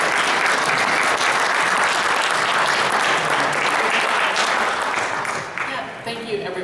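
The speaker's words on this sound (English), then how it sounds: "give a welcome round of applause for Jennifer" An audience at a Democratic Party small-business caucus panel gives a full, loud round of applause for a panelist, dense and continuous before tapering off with scattered final claps.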